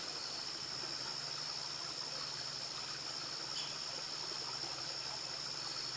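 A creek running through the woods makes a steady, soft rushing murmur that holds level throughout, with no one speaking.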